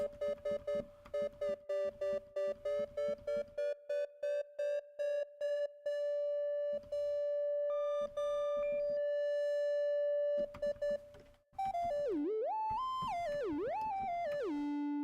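A Moog Slim Phatty synthesizer holds a steady electronic tone in choppy, repeated pulses, its second oscillator an octave lower, then sustains and bends into a wobbling, sliding pitch near the end.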